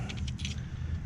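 Two metal screws clinking and jingling together in a hand, a few quick bright rattles close up over a low background hum.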